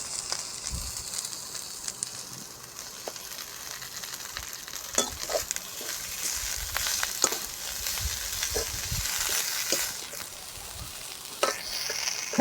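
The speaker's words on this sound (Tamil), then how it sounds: "நல்லா வதங்குற அளவுக்கு இதை வதக்கி எடுத்துக்கிடுவோம்" Mint and curry leaves sauté in hot oil for a village-style fish fry, giving a crackling, spitting sizzle with irregular stirring scrapes, close and moderately loud.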